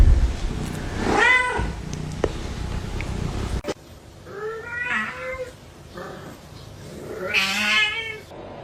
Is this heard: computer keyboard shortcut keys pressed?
no